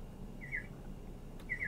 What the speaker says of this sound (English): So this is the chirp.